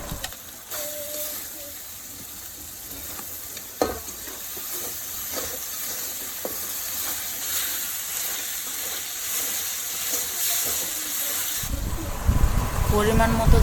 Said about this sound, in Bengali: রোস্টের মশলা দিয়ে ভালো করে কষিয়ে নেব।